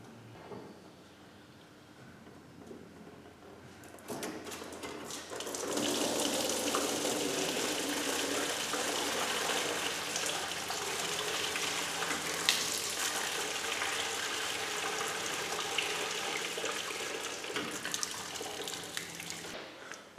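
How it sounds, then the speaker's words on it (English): Coolant gushes out after the bottom hose is pulled off a Volvo B18 engine, a steady broad liquid pour that starts a few seconds in and runs on continuously, fairly loud and close, with no talking. "I'm just going to take the bottom hose off this to drain the coolant"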